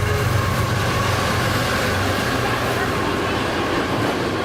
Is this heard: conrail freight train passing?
yes